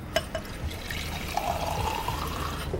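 A glass is being filled with water: a soft, close trickle of liquid runs for a few seconds after a couple of light clinks, fairly quiet overall.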